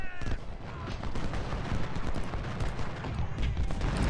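Rolling musket and artillery fire from Civil War troops in the strategy game Ultimate General: Civil War, a dense continuous battle din of overlapping shots at moderate distance.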